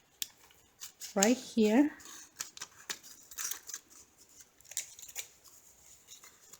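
Scissors cut through paper card during a sweet cards and cake box craft, two short crisp snips close up, with a person talking softly over quieter handling noises.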